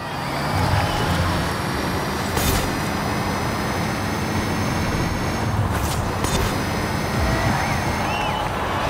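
A BMW sweeps past in the racing game Forza Horizon 5, a broad rushing engine and road roar that stays loud and steady, with a couple of brief sharp bursts along the way.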